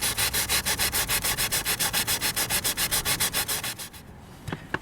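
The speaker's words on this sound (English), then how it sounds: "So I'm starting off with the 400 grit wet and dry, and this is going to take off the sort of bulk that's proud of the surface." Wet and dry 400 grit paper rubbed back and forth over a velomobile's gelcoat, a steady rhythmic scratching of about twenty-five close strokes that stops near the end, followed by a few faint taps.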